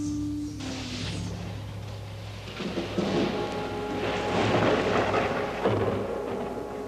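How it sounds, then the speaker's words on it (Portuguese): Thunderstorm ahead on a journey: a continuous loud rumble of thunder and heavy rain that swells and rolls through the whole stretch, alone with no voices. "Veja a tempestade à nossa frente."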